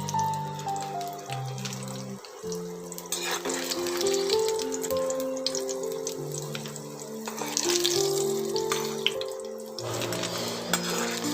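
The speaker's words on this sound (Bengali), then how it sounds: "এইভাবে আলুগুলো ভেজে নিতে হবে" Potato pieces fry in oil with a steady, hissing sizzle that swells and eases, heard close and continuous beneath background music.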